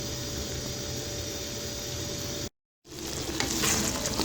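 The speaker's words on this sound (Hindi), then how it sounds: "अब मैं इसे अच्छी तरह भून लूँगी पहले तेज़ आंच पे ही।" Chicken karahi sizzling loudly in a pan over a high flame, a steady broadband crackle that breaks off briefly in a moment of silence, then resumes with stirring scrapes.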